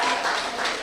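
An audience gives a round of applause for a group, a brief burst of steady, fairly loud clapping with no voices over it.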